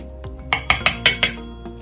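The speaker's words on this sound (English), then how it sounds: "Stir this back up again." Spoon stirring salt, pepper and spice mixture in a bowl for buffalo cauliflower batter, giving five quick clinking taps against the dish in a close, steady rhythm, with no talking.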